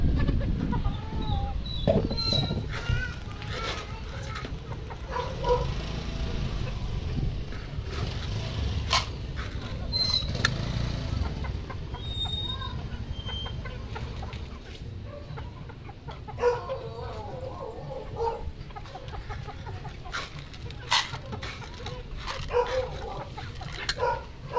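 Fighting roosters cluck and call while being fed a mixed feed, with occasional louder crowing-like bursts and a dog barking in the background, busy and close over steady outdoor noise.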